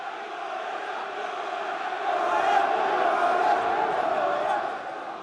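A crowd cheers and roars at a boxing weigh-in for Anthony Joshua versus Joseph Parker in Cardiff, a broad, steady wash of voices that swells louder midway and then eases slightly.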